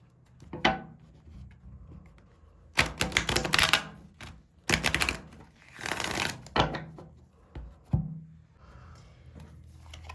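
Tarot cards being shuffled and drawn on a table, heard as several bursts of riffling and slapping with soft rubs and taps between them, close and fairly quiet.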